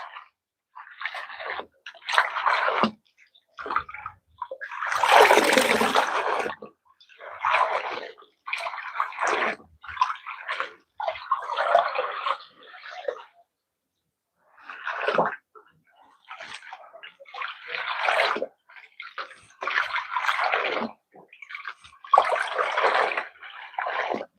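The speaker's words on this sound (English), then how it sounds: "This is how we wash them as usual. But you make sure you rub a bit." Saga leafy vegetables are washed and rubbed by hand in a basin of water. Bursts of splashing, sloshing and squishing come close by, separated by short quiet pauses.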